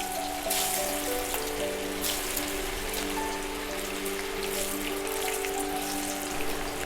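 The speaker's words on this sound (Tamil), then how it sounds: "இப்போ நம்ம வாழைக்காவை இதில் போட்டு டீப் ஃப்ரை பண்ணிக்கலாம்." Raw banana pieces deep frying in hot oil in a pan, a steady dense sizzling hiss with faint crackle running evenly throughout at moderate level, no voices.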